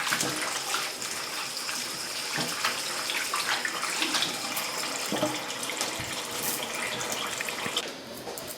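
Tap water runs steadily into a sink or bowl while seitan dough is kneaded and rinsed under it, a continuous splashing flow with brief wet squelches, close and moderately loud.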